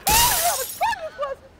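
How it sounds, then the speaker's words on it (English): Glass shatters loudly in one close burst as old clunker cars are smashed in a Cash for Clunkers event at a car dealership, followed by a few brief ringing, scraping tails. "she's smashing all the clunkers"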